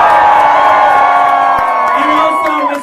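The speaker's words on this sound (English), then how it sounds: "we need to give a large round of applause to one of my favorite people, Miss Adore Delano" A drag-show crowd in a club cheers and whoops loudly and continuously, a high wall of shouting voices with whistles, close and dense.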